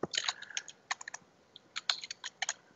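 Keys clatter on a computer keyboard in quick irregular bursts of taps with brief pauses between them, close and fairly quiet, with no talking.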